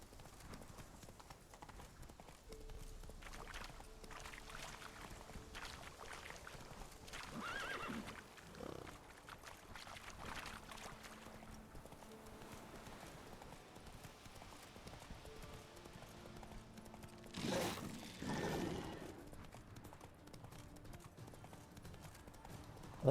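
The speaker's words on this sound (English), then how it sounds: "I thought this horse was supposed to stay on the path." Horse hooves clip-clopping at a steady gallop in the video game Witcher 3, a continuous rhythmic patter with a brief whinny partway through, fairly quiet under game ambience.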